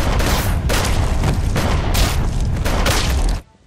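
Rapid gunfire and booming explosions from the Sharknado film as sharks are shot, a loud, dense barrage of repeated blasts that cuts off abruptly at the end.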